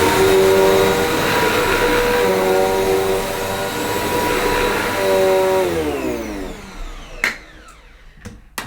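Zanussi AirSpeed Lite II Pet bagged upright vacuum cleaner runs steadily on carpet, a loud droning motor with whining harmonics that shift in pitch, then winds down near the end with a few knocks.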